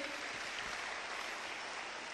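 Audience applause at a motivational seminar, a dense steady wash of clapping hands with no talk, moderately loud throughout.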